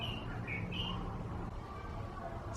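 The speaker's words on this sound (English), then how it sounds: "Do you hear that bird? Because that's beautiful." A bird sings outdoors in a few faint, brief chirps near the start, heard over a steady background hum.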